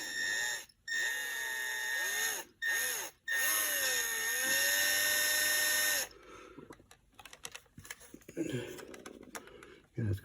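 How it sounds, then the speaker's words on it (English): A small drill bit bores through a plastic visor vanity lamp cover from a C6 Corvette, giving several short, close, high-pitched whining bursts separated by pauses, with each bit of drilling shifting in pitch, followed by quieter handling noises. "Find your center and then drill through your cover."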